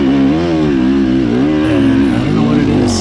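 A 2025 KTM 300 XC dirt bike engine chugging at low RPM while climbing uphill on a trail, a loud, close, labored two-stroke rumble that rises and falls unevenly throughout.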